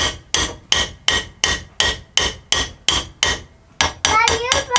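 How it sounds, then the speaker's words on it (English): A hammer strikes an old steel G clamp being restored, about a dozen sharp metallic blows in a steady rhythm, loud and close, ending in a quicker flurry of ringing hits. "Now, if I get a hammer."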